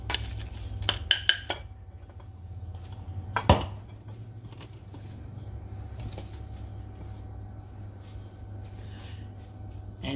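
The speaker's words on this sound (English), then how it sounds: "just coating them in the sugar" Donut holes tossed in sugar in a bowl make a few light clinks and taps in a cluster, then a louder knock, followed by quiet soft rustling over low background hum.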